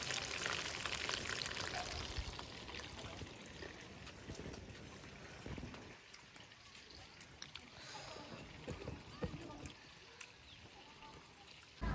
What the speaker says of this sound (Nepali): यहाँ चाहिँ चिकन रेडी हुँदैछ, फ्राई हुँदैछ